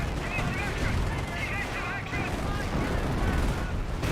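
Incendiary mortar fire in Company of Heroes, a World War II strategy game, amid a dense, continuous battlefield din of explosions and gunfire, loud throughout, with a voice talking over it.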